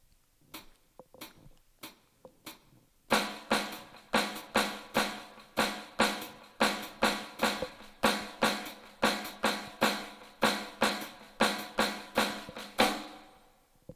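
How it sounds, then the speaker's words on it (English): A snare drum plays a steady run of crisp strokes with recurring louder clave-pattern accents over four measures, after a few sparse opening hits. "now that we have our four measure pattern played on the snare drum"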